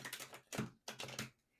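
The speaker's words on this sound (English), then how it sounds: "As I shuffle the tarot cards," A deck of tarot cards is shuffled in short riffling bursts, three or four quick crisp rattles with brief pauses, close and quiet.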